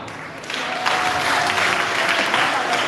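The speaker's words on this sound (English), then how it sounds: "so give them a clap" Parents and guests at a primary school graduation ceremony giving a steady round of applause, dense clapping that swells in after a brief start and continues evenly throughout.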